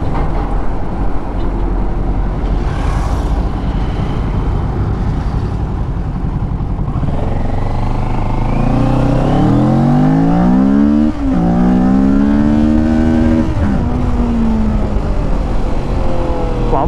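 A Kawasaki Ninja 650 twin-cylinder motorcycle engine accelerates hard, its loud exhaust note climbing in pitch through successive gear changes with brief dips between, heard close and continuous over steady wind and road noise.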